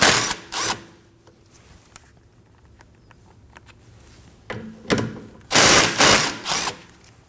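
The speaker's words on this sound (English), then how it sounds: "Next up, we're gonna be removing these two 14mm nuts." 14mm socket on a ratchet loosening nuts on a 2011-2016 Kia Optima during rear ABS wheel speed sensor replacement: bursts of rapid ratcheting clicks at the start and end, with quieter clicking and handling in between.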